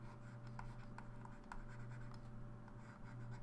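A pen scratches across paper while drawing a square, giving soft, close strokes in quick bursts over a steady low electrical hum.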